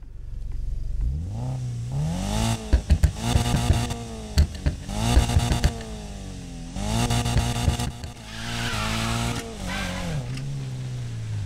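Subaru BRZ with a two-litre boxer engine in Need for Speed Payback, revving up and down several times with rising and falling pitch sweeps, loud and close, with brief gaps between pulls.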